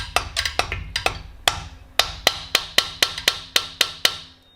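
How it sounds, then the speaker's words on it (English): A mallet lightly taps a long socket on a 1969 Porsche 911T engine part during a top-end rebuild, about fifteen sharp metallic knocks in an uneven then steady rhythm, close and clear. "I'm just going to use a long socket and my mallet and very lightly tap it."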